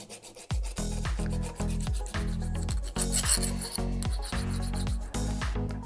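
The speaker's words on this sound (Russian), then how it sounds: "Слегка зачищу блесны." A file rasps against a small homemade metal winter fishing lure in about nine even back-and-forth strokes, close and clear, with brief pauses between each stroke.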